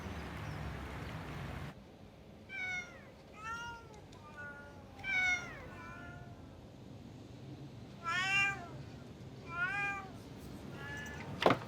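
Domestic cats in the Happy Neko Cafe, a Tokyo cat cafe with 15 resident cats, give a series of drawn-out meows scattered over about twelve seconds. The calls are mid-distance, rise and fall in pitch, and sit over a low room hum.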